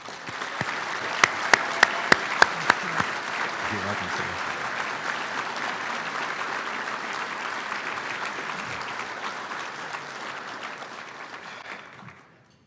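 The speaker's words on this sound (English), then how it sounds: "will you please join me in a final round of applause for all of our award recipients?" Guests at a Marine Corps Installations and Logistics awards dinner give a sustained round of applause for the award recipients, steady for about twelve seconds before tapering off, with a brief spoken exchange near the start.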